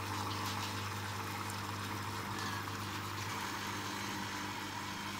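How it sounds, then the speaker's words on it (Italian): A La Spaziale professional espresso machine runs steadily as water flows down and fills its basin, giving a constant pump hum with a soft watery hiss and no voices. "Sta scendendo l'acqua e si sta riempiendo la bacinella."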